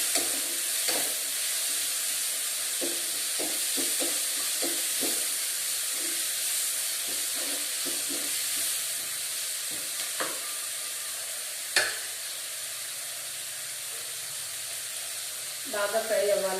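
Curry with tomatoes sizzles and hisses steadily in a pan, with repeated scraping stir strokes and clinks of a spatula against the metal, close and continuous.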